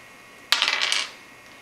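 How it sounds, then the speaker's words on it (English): Dice clatter and tumble across a table in a short, bright burst of rattling clicks lasting about half a second, then quickly settle into quiet. "All right, so let's roll the dice."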